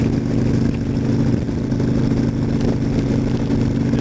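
Harley-Davidson XL1200 Sportster Low motorcycle on a ride, a steady loud drone of engine and rushing wind noise continuing without a break.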